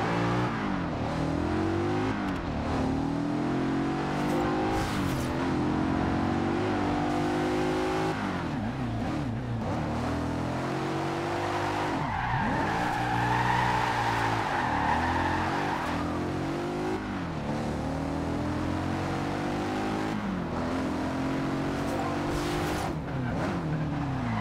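Audi RS4 estate with a V8 engine in the racing game Forza Horizon 2, revving and shifting through gears with a loud, rising and falling engine howl, brief tire squeal midway, continuous and close.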